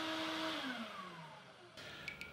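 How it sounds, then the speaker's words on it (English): Vacuum drawing water out of a freshly formed wet paper sheet on a papermaking mould, a steady loud whooshing suction with falling whine that cuts to a thinner hiss near the end, no voices. "We need to suck water out of it, which we can do with a vacuum."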